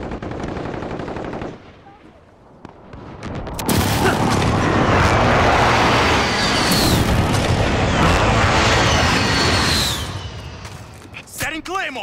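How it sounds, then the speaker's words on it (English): Precision airstrike in Call of Duty: Modern Warfare, a sustained roaring barrage of loud explosions and rattling gunfire lasting several seconds, preceded by a quieter stretch and ending in scattered blasts. "Enemy precision airstrike."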